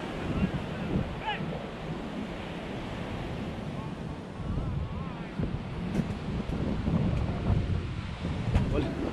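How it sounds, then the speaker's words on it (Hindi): Large ocean waves break on the beach at Arambol in Goa, a steady roar of surf with wind buffeting the microphone and faint voices at times. "ये लहरें बहुत बड़ी बड़ी आ रही है भाई।"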